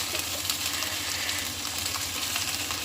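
Food frying in a pan for a Hong Kong-style dish gives a dense, steady sizzle with light bubbling and faint stirring noises, close and loud, with no talk.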